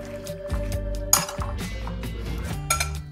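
Coarse cabbage and fruit salad being tossed with dressing in a bowl: close clinks and clatters of utensils against the dish, with soft wet shuffles between the knocks and no talking.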